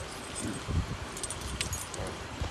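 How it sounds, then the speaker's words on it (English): Car keys on a ring jingle and clink close by, a busy metallic rattle of several small hits over a steady low background hum. "So, I need to give him my keys,"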